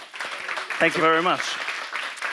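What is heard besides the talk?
audience applause for volunteer at TEDx talk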